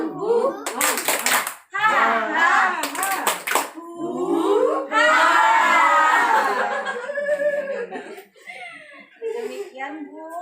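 Audience at a parenting session doing a rhythmic spirit clap: bursts of patterned hand claps in quick sequences, mixed with laughter, giggles and chatter between the claps.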